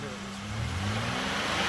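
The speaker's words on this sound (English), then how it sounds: "Revs up nice and smooth." A 2003 Chevrolet Impala's 3.4 engine hums and rises steadily in pitch as it revs, a close, continuous mid-range drone climbing smoothly over under two seconds.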